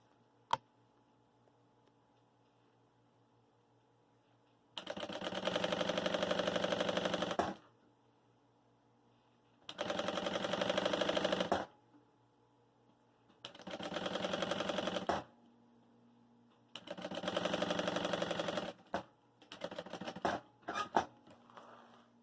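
A sewing machine stitches an insulated cooler bag with the stitch length set to 3, running in four steady bursts of a few seconds each separated by pauses, then a few short stop-start bursts near the end.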